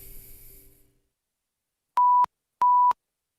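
Silence after a brief fading noise, then two clean electronic beeps of equal pitch and length, evenly spaced and loud.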